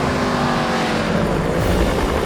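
Loud, continuous roar of a Mercedes-Benz 300 SLR racing car's 3-litre straight-8 engine close by, a dense rumbling drone that holds steady with a slight rise in pitch.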